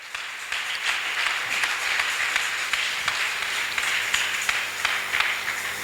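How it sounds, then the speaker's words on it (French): A church congregation applauds and acclaims together, a dense, even patter of many hands clapping at moderate volume that carries on steadily without any speech. "Donnons une forte acclamation au Seigneur."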